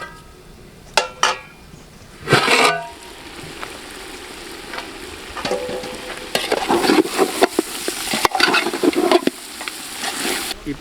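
Spicy village chicken curry cooks in a pan, with intermittent sizzling and stirring scrapes, clatters of utensils, and short bursts of frying noise close by.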